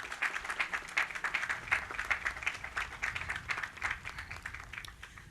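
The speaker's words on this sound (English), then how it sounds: "So let's give a nice big round of applause to Director McCall." An audience at a Memorial Day ceremony in a national cemetery claps steadily for about five seconds. The dense applause holds an even level throughout and fades slightly at the end.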